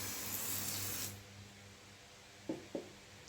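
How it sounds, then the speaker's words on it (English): A hissing spray of V7 Expert multi-function foam cleaner blasts for about a second from 15 centimeters away, followed by quiet and two soft taps. "15 centimeters away and spray."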